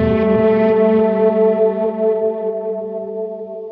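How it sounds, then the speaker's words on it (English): A sustained electric guitar chord with a wavering, shimmering modulation effect, pulsing slightly as it slowly rings out and fades. "I kind of want to add some modulation"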